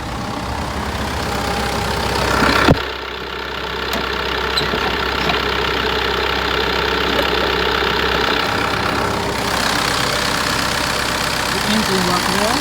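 A 2005 Mitsubishi Fuso Canter truck's 4.9-litre 4M50 turbo intercooler diesel idles with a steady, close, chattering rumble, broken by one sharp clunk early on, and then keeps running evenly.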